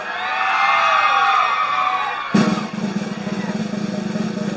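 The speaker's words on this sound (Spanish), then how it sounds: "¡Aplauso para la morena!" Crowd at a contest in Tipitapa, Nicaragua, whooping and cheering loudly for a contestant, a dense sustained roar that suddenly shifts to a steadier, lower rumble of clapping and noise.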